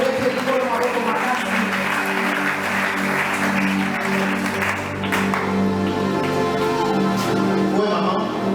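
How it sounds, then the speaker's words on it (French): Church congregation at an anniversary service applauding loudly and steadily, a dense continuous wall of clapping with voices and cheering mixed in throughout. "Acclamons très fort le Seigneur."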